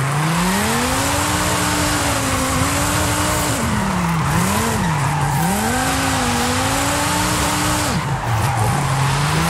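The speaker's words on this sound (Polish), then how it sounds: "tamto rondo, zawrócimy sobie oczywiście driftem" A tuned drift car in Forza Horizon 5 slides around a roundabout: a loud, steady engine whine that swoops up and down in pitch, layered over continuous tire squeal and hiss, with no talking.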